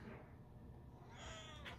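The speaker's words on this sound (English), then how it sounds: "Meow." A domestic cat gives a short, faint meow or two indoors against a quiet room background.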